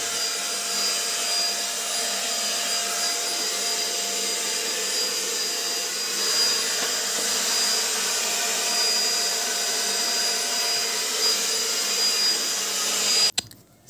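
A household vacuum cleaner runs continuously at home during Sunday cleaning, a loud, steady motor whine and airflow roar that holds throughout before cutting off abruptly at the very end.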